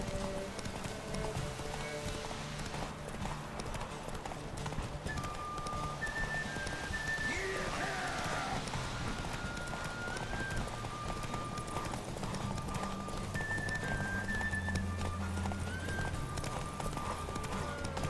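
A horse gallops with rapid, steady clip-clop hoofbeats through a Witcher 3 game scene, moderately loud and continuous, with faint game music and ambient rain underneath.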